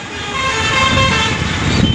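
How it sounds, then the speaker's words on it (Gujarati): Busy road traffic at the Junagadh Sunday market, with a loud, close vehicle horn held for about two seconds over the rumble of engines. "અને ટ્રાફિક એવું હોય છે અત્યારે"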